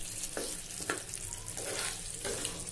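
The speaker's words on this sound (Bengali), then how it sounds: "ফ্লেমটা একটু আস্তে করে দিয়ে ভালো করে নাড়িয়ে নিয়ে তারপর জল করে দেবে" Spinach chicken is stirred in a pan over a low flame, with a faint sizzle beneath four evenly spaced scraping strokes of a spoon against the pan.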